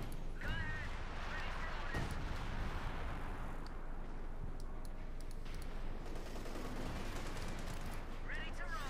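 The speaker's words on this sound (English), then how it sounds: "So much artillery though, just constant barrages from Redxwings by now." Constant artillery barrages and gunfire in Company of Heroes 2, a dense, continuous wash of explosions and shots rumbling throughout, with voices speaking over the battle.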